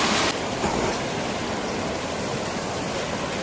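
Nerchapara waterfall in a hidden forest spot in Malappuram, with water falling and splashing; a steady, full broadband rush of cascading water, loud and close and unbroken, heard alone with no voices.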